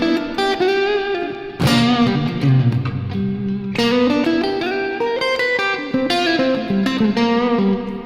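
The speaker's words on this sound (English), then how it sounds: "Let's just crank the reverb, spring, plate," An electric guitar played through a Universal Audio Delverb pedal with the reverb cranked to spring and plate settings; loud strummed chords ring out with long washy tails and a few sharp new attacks.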